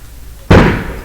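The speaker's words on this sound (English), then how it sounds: "Oh, those are fireworks. They're still going." A single fireworks blast goes off outside, one sharp loud bang that lands abruptly and then fades into a lingering rumbling decay.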